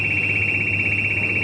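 A breathing apparatus pre-alarm sounds during a ship fire drill aboard the MV Karissa as a loud, steady high-pitched electronic tone, continuous and unbroken over a low mechanical hum.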